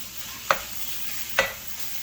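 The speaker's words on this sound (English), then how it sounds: "you just do that basic step of breaking it up and browning it up" Ground bison meat browns in a hot pan under a steady sizzle, broken by two sharp spatula scrapes about a second apart as the meat is broken up.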